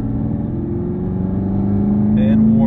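A Camaro ZL1 1LE's engine in sport drive mode with rev match on hums steadily and loud from inside the cabin, its pitch climbing gradually toward the end; a voice is heard talking over it.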